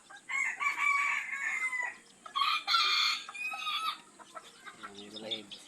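A white bantam rooster crows in two long, strained calls, close and fairly loud, with a few soft clucks and a low murmur of other fowl near the end.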